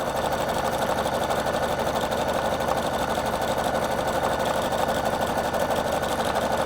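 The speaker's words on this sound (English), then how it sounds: "now it's going to sew exactly the same length of tapering stitch as I did before" A Husqvarna Viking Designer Brilliance 80 sewing machine runs steadily through a programmed tapering decorative stitch, a close, continuous mechanical whir and hum with no talk over it.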